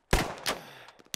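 A couple of sharp, close gunshots from the game Squad crack out, followed by fainter trailing pops.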